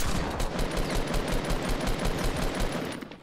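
Rapid automatic gunfire from the video game Fortnite rattles in a dense, continuous burst, loud and close, with no talking.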